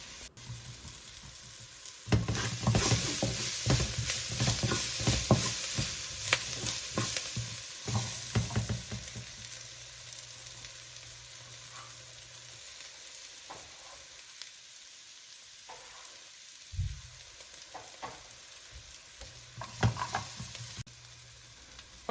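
Onion and garlic fry for a curry channa, a lively sizzle swelling as they are stirred around the pot, then settling to a quieter crackle with occasional utensil scrapes and knocks.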